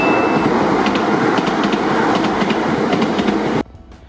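In Tokyo, a train rolls past a railroad crossing, loud and close, with rhythmic clickety-clack wheel beats and a crossing bell tone, before cutting off abruptly near the end.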